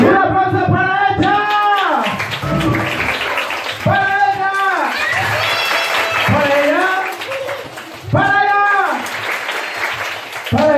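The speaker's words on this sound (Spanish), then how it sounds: "¡Un aplauso para ella!" Children at a primary school event clapping in bursts of applause and cheering, loud and close, with an adult voice and shouts heard between the rounds.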